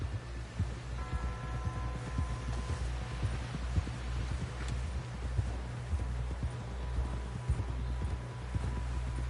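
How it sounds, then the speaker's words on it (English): Horse hooves in the Red Dead Redemption 2 video game, a steady galloping clip-clop thudding close under a low droning hum of game music and ambience, with no talking. "Someone help John down off this horse."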